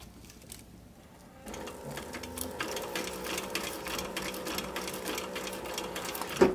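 A sewing machine back stitches across a sun visor in a steady, continuous run of quick rhythmic stitching, close and moderately loud after a quieter start.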